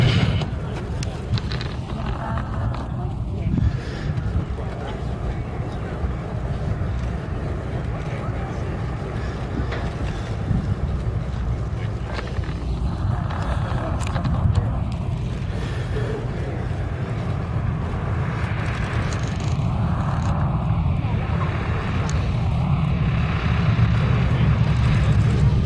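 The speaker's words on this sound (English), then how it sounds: "And here she comes, Yankee Lady, Boeing B-17 G model" Boeing B-17G bomber Yankee Lady, with its chin turret, lands in a wheel landing, mains first and then the tail lowered. A steady, broad engine drone holds throughout at constant strength, with a faint voice over it.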